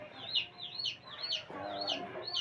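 Chickens cluck repeatedly in a series of short, high calls, fairly close and steady throughout, with faint household noise beneath.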